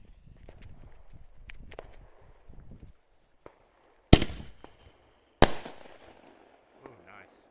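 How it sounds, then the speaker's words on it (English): Boomer miniature canister shell fireworks, festival balls, at a 4th of July gathering: two sharp loud bursts a second apart, each with a crackling tail, after quieter rustling and faint voices. "Another Boomer miniature canister shell, quote unquote festival ball."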